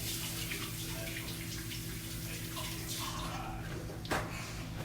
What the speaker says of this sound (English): Let me go wash my hands real quick.